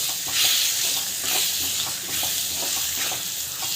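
A spice mixture with cumin powder sizzles in a hot pan while being stirred, a bright steady hiss with soft rhythmic scrapes of the spoon, close and continuous.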